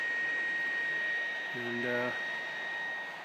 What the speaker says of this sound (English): So that noise you hear is the fan.